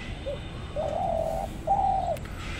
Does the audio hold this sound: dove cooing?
yes